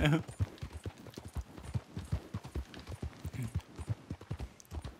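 Horse hooves clip-clopping at a quick, steady gait in the Red Dead Redemption 2 video game while riding through West Elizabeth, with rapid dull thuds throughout and a voice talking over them.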